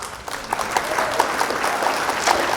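Applause for prize winners at a rural development fair with an army and police recruitment training camp: a crowd claps steadily, dense and close, in an unbroken patter from start to finish.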